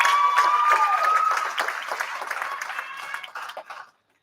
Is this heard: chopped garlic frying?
no